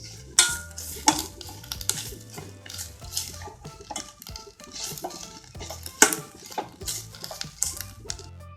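A spoon stirs grated coconut frying in a pan, steady scraping strokes and metallic clinks with a faint sizzle underneath, close-up and without speech.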